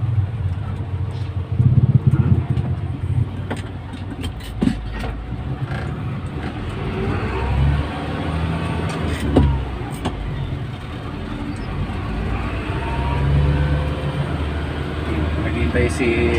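Congested road traffic held up by roadworks, with a steady rumble of car and vehicle engines close by, rising and falling, with voices talking over it.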